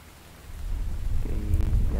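Rain falls in the zombie survival video game The Infected, a steady soft hiss with a low rumbling swell that grows louder toward the end.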